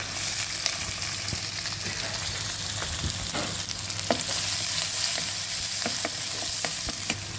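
Garlic, ginger, green chilli and shallots sauté in a pan after mustard seeds have popped, a steady sizzle with scattered clinks and scrapes of a spoon stirring.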